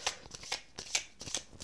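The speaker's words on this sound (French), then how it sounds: "Mon mauvais brassage qui fait qu'elle se retourne." Tarot cards riffled and shuffled by hand in quick repeated bursts, about five crisp flurries of papery flutter close to the mic with short gaps between.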